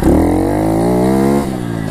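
A pit bike engine revs hard and close, its pitch climbing steadily through a sustained run before easing off slightly near the end.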